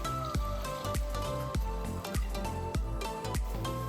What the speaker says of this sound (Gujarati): ચા આપણે ઉકરવા લાગી છે તો આપણે દૂધ એડ કરી દઈએ